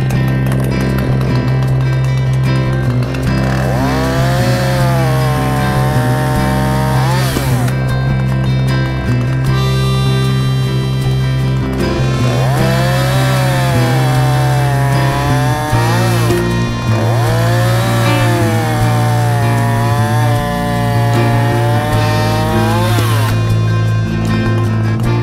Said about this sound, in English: Let me show you this with a running chain.